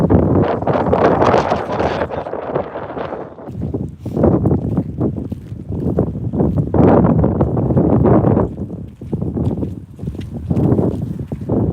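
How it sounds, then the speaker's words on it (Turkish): Strong wind buffets the microphone in heavy gusts, roaring loudly and easing briefly between blasts, with no voices. "Acayip rüzgar var."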